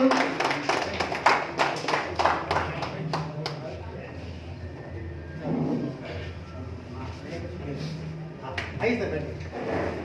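Audience applause at an award ceremony: a burst of clapping from a crowd at the start that fades within a few seconds, followed by a quieter room with a voice speaking and scattered taps.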